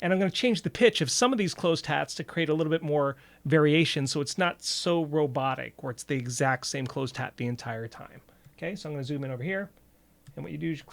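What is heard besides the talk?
No everyday noises stand out.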